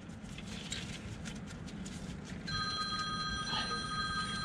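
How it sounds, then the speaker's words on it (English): Inside a Peterbilt 359 truck during a dump bed alarm installation, a faint electronic telephone ring sounds briefly over a constant low rumble, with no talking. "Rings the phone"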